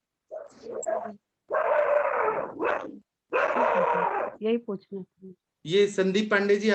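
A dog barks loudly in the background of a call participant's line, in bursts between and over a person's speech.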